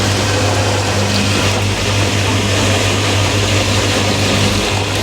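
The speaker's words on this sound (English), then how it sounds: "This is what the laundry room sounds like." A 1996 Whirlpool and a Kelvinator K605 washing machine run together in a laundry room, giving a constant loud mechanical drone with a low motor hum and a broad rushing noise and no pauses.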